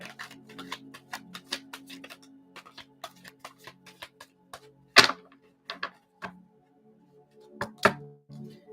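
A deck of tarot cards is shuffled by hand, producing a long run of crisp, quick card clicks and taps with a few louder slaps, close and dry, with no voices.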